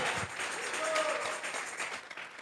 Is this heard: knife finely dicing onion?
no